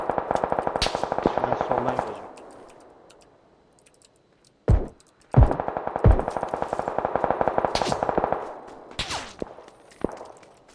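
Automatic gunfire in PUBG, rapid close bursts of shots broken by short gaps and a few sharp single reports, echoing loudly.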